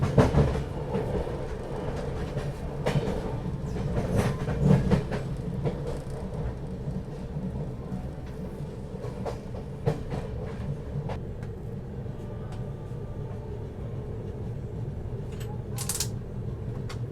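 A Tejas Rajdhani Express runs on rails with a steady low rumble and rhythmic clickety-clack, sharp clanks and ticks over the joints, heard from inside the carriage with no talking.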